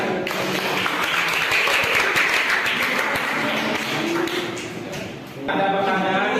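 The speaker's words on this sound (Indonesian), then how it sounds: "Ya, tepuk tangan." A classroom audience claps together in a steady, dense burst that runs almost the whole time and drops off near the end, where a voice begins speaking.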